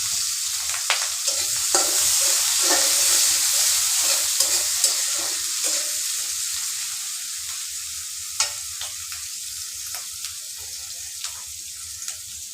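Cumin, green chillies, garlic and bay leaves sizzle in hot oil in a kadai, a loud steady fry with scattered sharp pops and crackles throughout.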